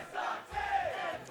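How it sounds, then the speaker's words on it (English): Crowd at a Super Smash Bros. Melee tournament match chants and cheers together, a loud sustained swell of many voices with a brief dip midway. "There is indeed an anti-sucks chant coming in"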